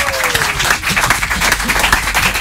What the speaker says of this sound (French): on va applaudir si vous voulez bien